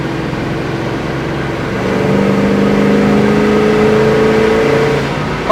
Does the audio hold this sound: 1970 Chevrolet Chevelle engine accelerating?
yes